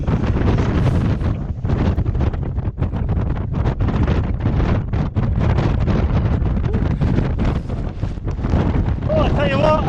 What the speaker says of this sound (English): Oh, I tell you what, it's breezy up here